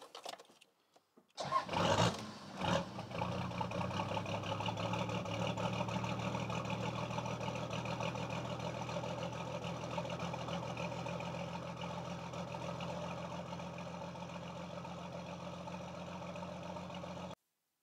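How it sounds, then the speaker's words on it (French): An old 4-litre inline six-cylinder diesel engine without glow plugs cranks briefly, fires up, and settles into a steady, rough, clattering idle that continues at a constant level, close by. "ceci est un moteur diesel de 6 cylindres en ligne, 4 litres"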